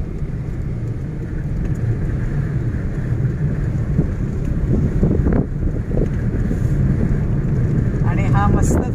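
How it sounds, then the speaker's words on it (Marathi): Cool wind blows by the sea near a windmill, a constant low roar buffeting the microphone with a gusty rumble, while a person talks over it at times. "आणि हा मस्त थंडगार वारा"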